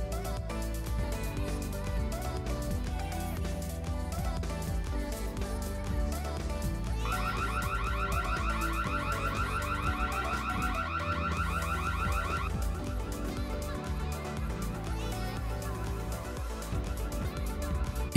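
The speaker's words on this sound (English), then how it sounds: "The guy soon went away when the alarm went off." A car alarm blares with a rapid, warbling electronic siren, cycling through patterns over a busy background, fairly distant and steady throughout.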